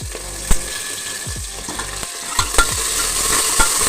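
Ground garlic and ginger, green chilli and curry leaves frying in oil for a drumstick curry, with a steady sizzle punctuated by repeated sharp scraping strokes of a spoon against the pan.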